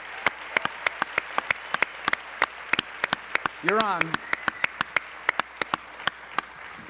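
A studio audience at a 2009 interview show claps for a fighter walking on. The claps are sharp and scattered, steady in rhythm and moderately close, and someone speaks briefly in the middle.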